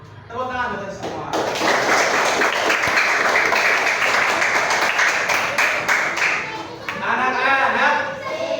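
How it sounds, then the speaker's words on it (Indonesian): Applause from a classroom of children, steady loud clapping that swells quickly and holds for several seconds before a brief dip and a second burst. "Tepuk tangan buat semua."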